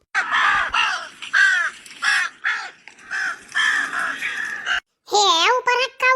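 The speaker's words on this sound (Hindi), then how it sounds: "हे ऊपर कौआ बहुत मड़ा रात बाटे" A crow caws overhead in a village setting, its repeated harsh calls mixed with people talking nearby. The caws are loud and close, with one brief silent gap near the end.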